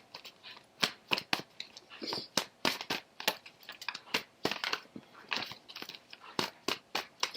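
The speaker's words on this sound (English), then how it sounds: "while I'm shuffling" Tarot cards being shuffled, close and fairly quiet: a steady run of sharp riffling bursts and soft slaps repeating every half second or so, with no talking over them.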